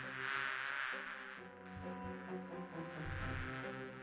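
Steady buzzing of bees around their hives in the Discworld II adventure game, a continuous droning hum layered over soft tonal game music, with no speech.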